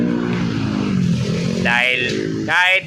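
Honda XRM125 motorcycle engine, said to keep running even after the key is switched off, idles with a steady low putter under someone talking nearby, while a higher whine rises twice toward the end.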